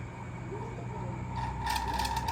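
A rotating part inside a faulty electric fan gives off a steady mechanical whir with a faint ratcheting, grinding texture that grows louder and brighter toward the end.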